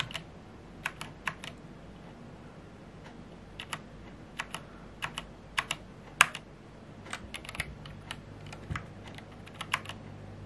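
Soft, scattered keystrokes on an unusual keyboard with a sloped side profile that registers even very light presses, tapped irregularly in small clusters over a quiet room background with no talking.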